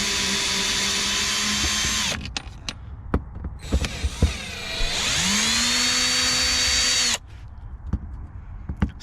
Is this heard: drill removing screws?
yes